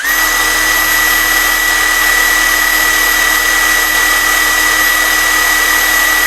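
A KAMOLEE DTW700 cordless impact wrench free-running at its highest third speed, about 2290 rpm, gives a loud, steady high-pitched motor whine that holds unchanged throughout, with no hammering impacts.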